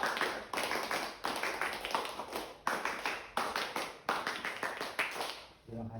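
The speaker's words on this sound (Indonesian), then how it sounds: "2 kali tepuk Pramuka." A group of Scouts claps the Pramuka clap twice, each round a quick series of sharp, loud clapping bursts in a rhythmic pattern, ending with a brief voice.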